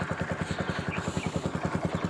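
A motorcycle engine runs with a quick, even, throbbing idle rhythm, heard fairly close and moderately quiet, with no talk over it.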